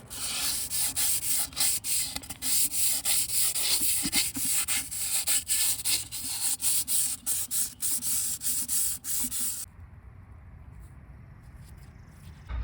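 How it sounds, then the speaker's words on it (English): Abrasive 150-grit paper with WD-40 scrubs the liner-bore chamfers of a Caterpillar 3406E engine block in quick, rhythmic back-and-forth strokes, close and loud, stopping after about ten seconds. "so I'm cleaning up the chamfered areas that guide the liner O-rings down into their bores"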